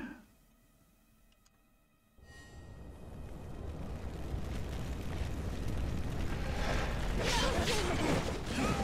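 The player character catches fire in the video game Wo Long: Fallen Dynasty; after a quiet start, a dense roaring crackle bursts in suddenly and keeps swelling louder to the end.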